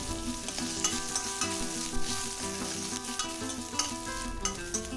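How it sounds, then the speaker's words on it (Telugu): A handful of curry leaves fry in a pan for dried prawn sesame spice powder, a steady close sizzle with crackling bursts and occasional stirring scrapes, no voices. "ఒక గుప్పెడంత కరివేపాకును తీసుకొని చక్కగా దీన్ని కూడా ఫ్రై చేసుకోవాలి"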